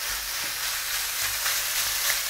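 Minced meat frying in oil in a pan, a steady close sizzle and hiss running throughout without any talking.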